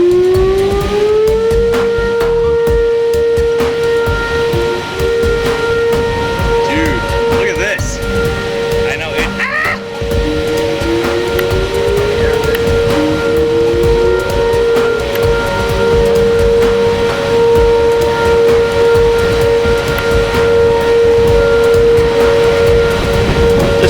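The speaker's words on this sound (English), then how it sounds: "The sirens sound again, warning the residents of Osage Beach." Tornado warning sirens in Osage Beach rise and hold a loud, steady mechanical wail, repeating its upward sweep several times against a rumbling background.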